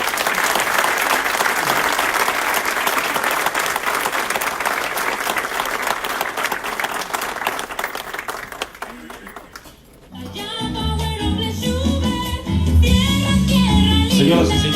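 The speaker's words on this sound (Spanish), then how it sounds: "despedimos con un caluroso y fuerte aplauso a nuestro gobernador del estado de Chiapas, Rutilio Escandón Cadenas" An audience at a Chiapas state education consultation forum claps in sustained, dense applause for about ten seconds, then it fades out as loud music begins.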